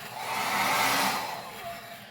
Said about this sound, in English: gonna use the blow dryer to soften the wax.